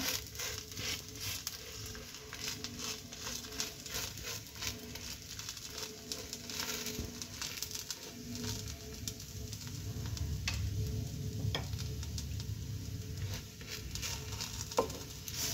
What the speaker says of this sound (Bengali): এবারে আমি ভালোভাবে ভেজে নেব দুদিকটা।